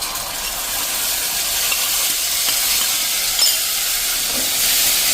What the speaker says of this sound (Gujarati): એકદમ સરસ આપણે તેલમાં આ પેસ્ટ સંતળાય